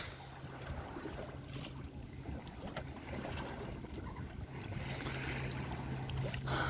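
A sailboat running before an east wind, with a steady rush of wind and water noise, fairly quiet and continuous and without any voices.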